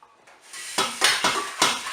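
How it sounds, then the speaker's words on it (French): Leftover water is tipped out of a Cookeo pressure cooker bowl, with a faint trickle, then several clanking metallic knocks of the bowl at an even pace, close and fairly loud. "Je vais vider l'eau qu'il reste dans le cookéo,"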